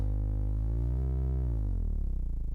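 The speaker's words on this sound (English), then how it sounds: "you can use it basically as an oscillator in its own right" A low, buzzy tone from an ftElettronica synthesizer oscillator holds steady, bends upward in pitch, then sweeps back down and wobbles as it fades lower.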